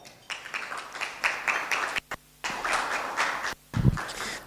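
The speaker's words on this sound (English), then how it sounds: "let's give him a clap." Audience members at a democracy dialogue forum clap for a panel speaker, dense bursts of applause that start and stop abruptly with short silent gaps between them.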